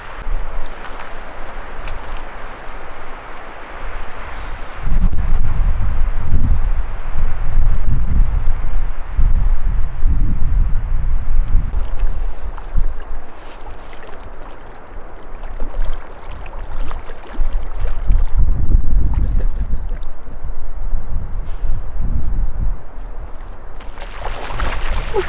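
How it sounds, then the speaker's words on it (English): Strong wind gusts at Heart Lake in Yellowstone, loud rumbling buffets against the microphone that rise and fall in long surges, with a calmer stretch in the middle and no talking. "Boy, is it windy. It's blown my tripod over a couple of times."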